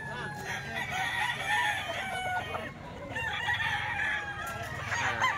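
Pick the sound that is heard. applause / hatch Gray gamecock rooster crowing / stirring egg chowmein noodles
hatch Gray gamecock rooster crowing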